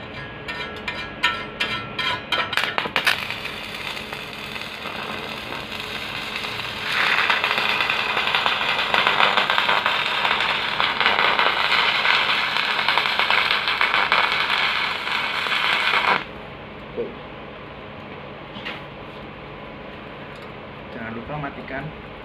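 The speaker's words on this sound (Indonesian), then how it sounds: "Oke, setelah itu kita lakukan pengelasan." Welding during a welding practice session gives a steady electric crackle and sizzle that grows louder mid-clip and then stops abruptly, with background noise around it.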